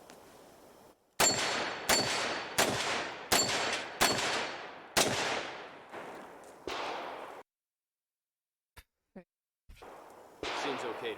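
A powerful revolver handgun firing six loud, sharp shots about a second apart, each with a ringing outdoor echo trailing off. A few faint clicks follow after a pause, then another burst of noise.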